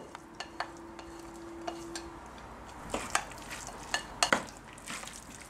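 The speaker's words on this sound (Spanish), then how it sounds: "vamos a simplemente ahora mezclar todos nuestros ingredientes aquí dentro con la salsa" Spoon scraping and clinking against a pan while ingredients are mixed into a béchamel sauce for chicken and vegetable pastry cups, scattered sharp knocks over a quiet background, no voices.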